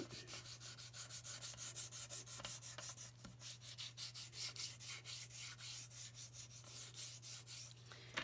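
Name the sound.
sanding a paper craft piece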